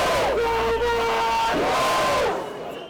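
A crowd of political opponents lets out a loud, sustained victory whoop, a single long chorus of massed voices that fades out toward the end.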